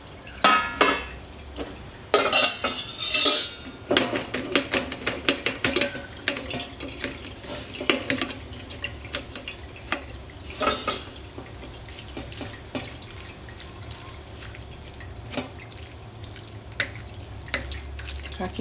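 Boiled noodles for Batak mie gomak draining in a kitchen, with water dripping and trickling through a strainer into a sink alongside light clatter of pots, irregular splashes loudest early then settling into a steady patter.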